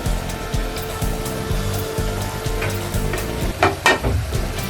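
Mutton frying in masala for mutton curry, a loud steady sizzle with rhythmic scraping and stirring strokes near the pan, growing busier toward the end, with no talking.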